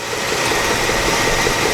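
A car with a clutch fan and no fan shroud idles in place, giving a steady, loud, even engine drone with no breaks, recorded close to the engine and with no talk.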